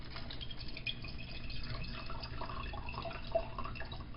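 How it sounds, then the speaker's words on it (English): Dirty water pours into a strainer in a steady, close trickle with splashing drips, continuous and moderately loud throughout. "So there I am pouring it in."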